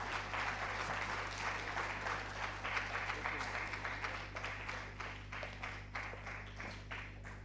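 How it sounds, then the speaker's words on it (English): An audience at a plenary session of a national migrant dialogue gives sustained applause, dense steady clapping from many hands filling the room over a low hum, loud and continuous before tapering slightly. "Please, can we clap properly for her?"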